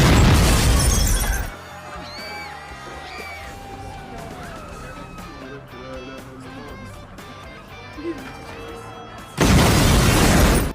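Film explosions in a crime action story about Mexican gangsters and mercenaries, with loud booming blasts and shattering debris opening and closing the stretch, separated by quieter scenes with faint movie music.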